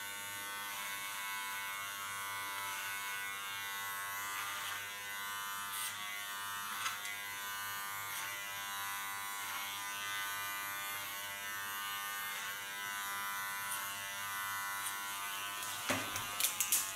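Electric hair clippers buzzing steadily as they cut short platinum blonde hair into a pixie style, a close, continuous whirring drone with slight shifts as the blade moves through the hair.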